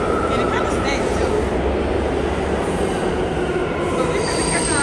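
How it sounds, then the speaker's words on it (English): A New York City subway train rolling through, its wheels squealing on the rails in a loud, continuous metallic screech over a heavy rumble that fills the whole stretch without letup. "So this is the subway."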